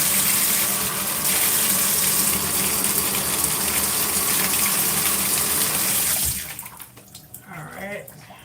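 Tap water running to warm up for hair styling, a strong steady gush close by that cuts off near the end, leaving faint handling sounds and quiet room noise.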